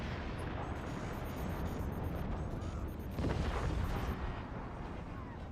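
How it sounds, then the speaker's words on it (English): Continuous cannon and autocannon fire in the Forts RTS game, a dense roaring barrage of overlapping booms and blasts with no pauses, swelling briefly louder midway. "the amount of cannon fire on Team 2 right now"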